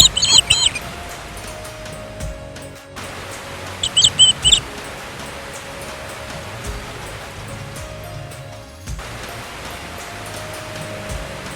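The Yamuna river flows in a steady rushing wash throughout, with a few brief bird chirps near the start.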